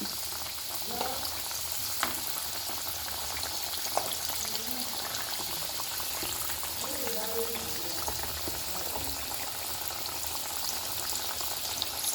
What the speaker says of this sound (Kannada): ಸ್ವಲ್ಪ ಗ್ಯಾಸ್ ಸ್ಲೋ ಇಟ್ಟು ಫ್ರೈ ಮಾಡಿ